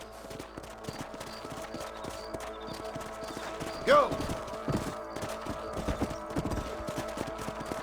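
Horse hooves clip-clopping steadily on a ranch in Red Dead Redemption, an even rhythmic trot with a brief whinny and a shout partway through, over quiet ambience.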